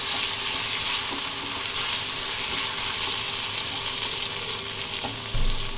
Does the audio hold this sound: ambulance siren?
no